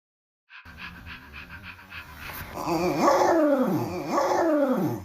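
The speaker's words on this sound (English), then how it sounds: "is that a growl I'm hearing?" A dog growls and pants close by, low rumbling growls swelling in repeated bursts after a brief silence, with whimpering tones in between.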